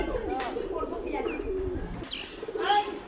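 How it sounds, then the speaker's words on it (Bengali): Pigeon cooing near a perch, with soft coos and a few brief chirps over a steady outdoor background, fairly close and moderately loud. "যে পায়রাটা ওখানে যে বসলো"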